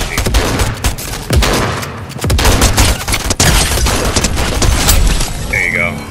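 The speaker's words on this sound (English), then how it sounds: "Just use your SMG" SMG gunfire in Fortnite rattles out in rapid, loud bursts with sharp cracks and booms scattered through the clip, while players talk over the shooting.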